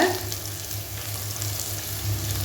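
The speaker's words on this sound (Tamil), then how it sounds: "இப்போ இது ஒரு நிமிஷம் நல்லா வதக்கி எடுத்துக்கலாம்" Onion and green chili sizzle in hot oil with a pinch of salt for vegetable biryani, a loud, continuous frying hiss with a steady low hum underneath and no talking.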